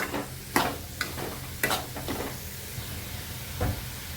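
Dried shrimp sautéing in a pan with red chilli powder, a soft steady sizzle broken by a few sharp clinks and scrapes of a spoon stirring against the pan, close and fairly quiet.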